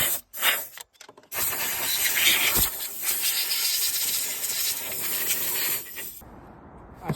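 Compressed-air blast from an air compressor blowing dust off the surface of a 2016 Peugeot 208 1.6 DV6FE diesel engine: a loud, steady broadband hiss that runs for about five seconds after a couple of short bursts, then stops abruptly.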